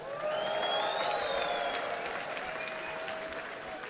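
A concert crowd at TivoliVredenburg in Utrecht applauds with steady, dense clapping and some cheering, loud and continuous throughout, with a few whistle-like tones rising above the clapping.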